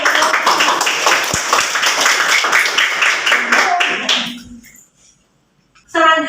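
A school class gives a loud, lively round of applause for a group's improved score, dense clapping that continues for about four seconds before fading out into quiet.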